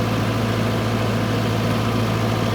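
A Mahindra Arjun Novo 605 CRDi tractor runs with an 8 ft superseeder in a field, its diesel engine a loud, steady low rumble that holds constant throughout.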